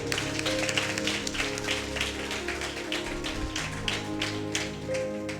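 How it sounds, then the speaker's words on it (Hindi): A church congregation claps in praise during a prayer service, a rhythmic, even patter of many hands over sustained music tones, moderately loud and continuous. "ताली बजाकर प्रभु को महिमा करेंगे।"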